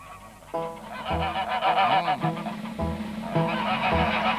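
Repeated loud goose honks, several calls in quick succession with short pauses, nasal and close, over a busy background.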